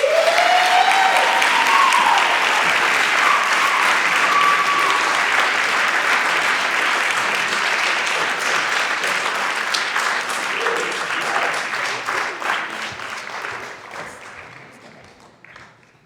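Audience applause welcoming two artist discussants to the stage at an art museum talk, sustained steady clapping from a crowd that gradually thins and fades out near the end.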